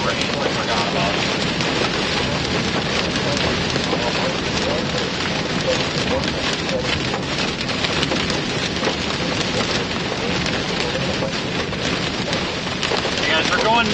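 Steady, dense rain pours without a break during a Colorado storm on a rough road, loud and close, with gusty wind mixed in; a voice speaks briefly beneath the downpour.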